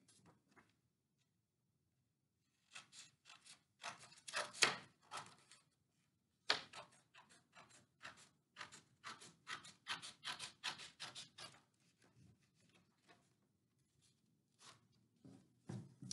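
Scissors cut through folded blue paper in a series of crisp, close snips and rustles, clustered in bursts with short pauses between them, nearly alone in a quiet room.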